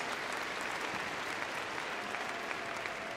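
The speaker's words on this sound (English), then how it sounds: "Let's give him a round of applause." Audience applause fills an arena at the Crufts dog show during a dog activities display, a steady, dense clapping from a large crowd that holds evenly throughout with no voices over it.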